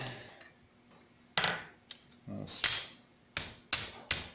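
A hot cut is hammered on an anvil into hot copper while forging a copper cross, a series of sharp, ringing metallic strikes spaced irregularly, some followed by bright clanging rings.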